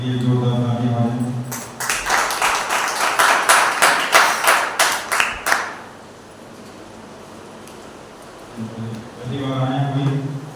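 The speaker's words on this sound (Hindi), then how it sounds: "आइए उस जिंदा सच्चे परमेश्वर के लिए जोरदार ताली मारें" A church congregation at a Sunday service breaks into loud, rapid clapping for several seconds, then falls quiet as a voice speaks over the room before and after.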